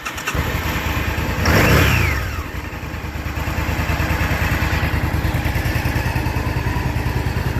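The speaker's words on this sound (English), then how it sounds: "I know everybody wants to hear what this thing sounds like, so I'm going to fire it up" A 1998 motorcycle engine cranks and fires, revs briefly, then settles into a loud, steady idle close by with no talking.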